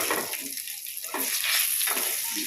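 Whole cloves, cardamom, cinnamon, cumin seeds and bay leaf sizzle in hot oil for prawn pulao while a spatula stirs them, giving a close, steady fry with soft scraping strokes.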